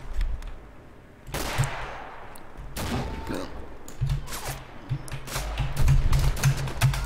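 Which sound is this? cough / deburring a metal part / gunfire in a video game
gunfire in a video game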